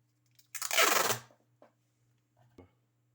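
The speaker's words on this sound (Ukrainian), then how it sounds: "Потім беремо скотч." A short rasping rip as wide adhesive tape is pulled from a roll, followed by a couple of faint small taps and clicks in a quiet room.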